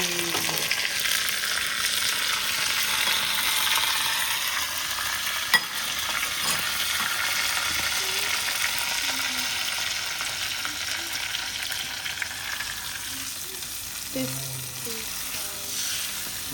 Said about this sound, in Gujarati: શું વઘાર મારે છે, જોરદાર.